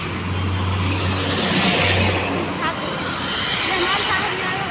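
Road traffic with a Volvo bus going past, a loud continuous engine rumble and tyre roar close by on a polluted morning street, with people talking over it.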